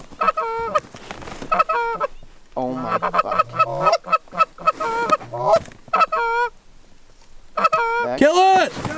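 Geese honk repeatedly and loudly during an early-season goose hunt in North Dakota, a busy flock of calls near and far, with hunters' brief exclaimed speech mixed in.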